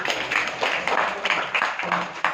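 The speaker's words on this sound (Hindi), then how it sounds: "शुभम प्रभु के लिए जोरदार तालियां।" Applause for a performer at a children's festival event, a dense patter of many hands clapping at moderate volume with a few louder claps standing out.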